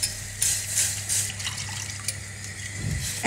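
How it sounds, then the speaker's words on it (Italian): Milk poured into a pan with butter for a filled carnival pastry filling, a soft steady liquid pour with faint splashing that stays near and fairly quiet throughout, with no talking. "E a questo punto aggiungiamo il latte."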